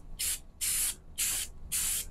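Krylon Fusion gloss red spray paint is fogged onto MIG gun holders in four short even hissing bursts with brief gaps, close and clear.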